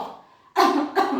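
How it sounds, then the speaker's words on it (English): Two sharp, close coughs from a COVID patient during physiotherapy, in quick succession, the second slightly shorter, after a brief quiet breath. "So after that you have to tell them to cough"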